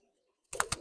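An old pigeon wearing an aluminium leg ring coos briefly and nearby after a silent start, with two short throaty pulses.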